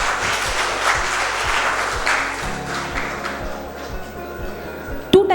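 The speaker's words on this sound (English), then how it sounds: "please give him a round of applause" An audience at a skills and career development training camp breaks into a round of applause that thins and fades away, leaving a quieter room and a brief bright ping at the end.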